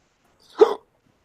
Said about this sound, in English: Damn people and their fucking hiccups tonight.